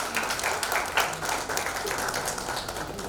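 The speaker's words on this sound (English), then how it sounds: "A round of applause." A round of applause from a conference audience at the National Shipping and Logistics Conclave, a continuous wash of many hands clapping close and loud throughout.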